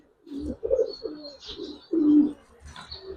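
Giribaz pigeons at a pigeon farm coo in low, throaty, rolling calls, a few overlapping phrases close by, with faint higher bird chirps behind and no speech.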